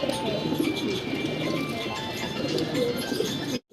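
Red Shirazi fancy pigeons cooing at a breeder's loft, a close, continuous murmur of overlapping low coos that cuts off abruptly at the end.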